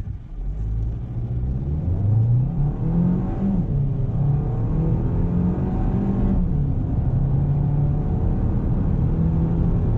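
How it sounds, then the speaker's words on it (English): A Hyundai Tucson with noticeable turbo lag accelerates from inside the cabin, its engine rumble deep and continuous while the pitch climbs slowly, dips once at a shift, and rises again. "The Hyundai Tucson has something called turbo lag and tons of it."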